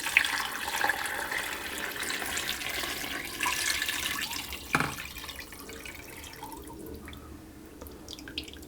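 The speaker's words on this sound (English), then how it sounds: "And I'll pour my stock over the top of everything else." Stock poured over chicken and vegetables in a pot for a chicken and vegetable pie, giving a steady liquid splash and trickle that runs for several seconds, with one sharper splash midway, then fades toward the end; no talking.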